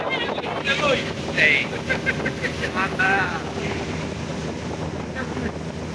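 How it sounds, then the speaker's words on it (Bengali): A speedboat crossing the wide Padma river between Mawa-area Moinot Ghat and Gopalpur Ghat on a foggy, cold day gives a steady, close roar mixed with buffeting wind, while voices talk over it. "আমরা খুব ঝুঁকিপূর্ণ কাজ করছি এই স্পিডবোট দিয়ে পার হওয়া"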